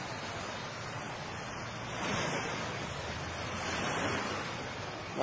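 Sea waves wash in after an earthquake in Davao, heard as a steady broadband roar of surf that swells twice, mixed with wind noise, with no talking.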